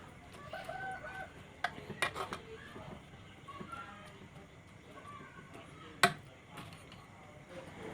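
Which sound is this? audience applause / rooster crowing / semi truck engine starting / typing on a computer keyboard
rooster crowing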